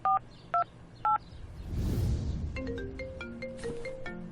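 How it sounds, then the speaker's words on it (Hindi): Three short two-tone beeps of a phone keypad being dialed, then a burst of noise followed by a series of steady electronic tones. "मैंने अथर्व को फोन मिलाया। नंबर डायल करते ही गलती याद आ गई"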